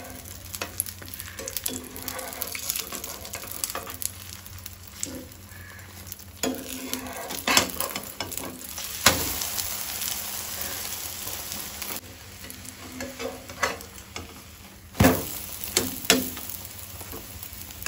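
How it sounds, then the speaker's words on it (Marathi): A Goan ros omelette sizzles and fries steadily in a pan, with scraping and a few sharper knocks as it is turned and flipped, close and continuous throughout. "आता आमी ऑमलेट परतून घेऊया. आमकां दोन्ही वाटल्यान बरी भाजून घेवपाक जाय."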